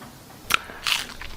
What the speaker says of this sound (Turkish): Kafayı ısırdı.